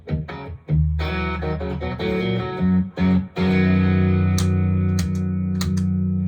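An electric guitar runs through an overdrive pedal into a Deluxe Reverb amp, playing a string of sustained, gritty chords and single notes. The tone is mildly fuzzy, loud and close, with brief gaps between phrases.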